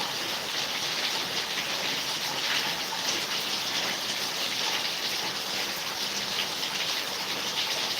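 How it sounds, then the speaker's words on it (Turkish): Steady rain pours down over a village, a dense even hiss of drops without a break, with no voices. "Yağmurun sesi bile insanı tedavi."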